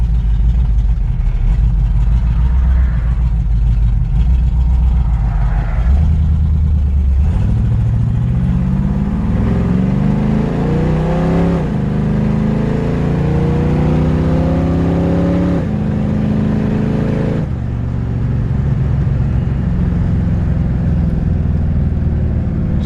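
A 1968 Chevrolet Camaro SS clone with a 355 small-block V8 and a 350 turbo automatic transmission rumbles at low revs, then pulls away hard. The engine note climbs through rising revs with a gear change, loud and close, with no talk.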